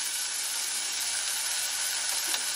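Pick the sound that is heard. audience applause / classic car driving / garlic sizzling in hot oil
garlic sizzling in hot oil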